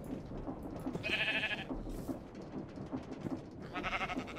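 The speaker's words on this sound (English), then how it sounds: "Should we try to breed these two sheep?" Sheep in the Minecraft video game bleat in two separate short calls over a steady background of game sounds, with no one talking.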